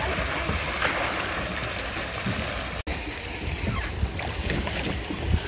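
A small paddle boat moves across the water, with a steady wash of water and wind noise close by and a brief dropout partway through, plus faint voices underneath.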